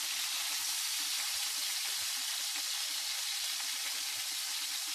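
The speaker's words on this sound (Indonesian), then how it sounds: "Pokoknya ini satenya di goreng itu" Satay skewers fry in a pan in a home kitchen, giving a dense, continuous sizzle of hot oil that stays steady and fairly close throughout, with no one talking.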